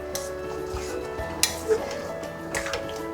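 Spoon stirring thickened tomato pickle in a pan on the stove, with a few scattered scrapes and light metal clinks over a faint background hum.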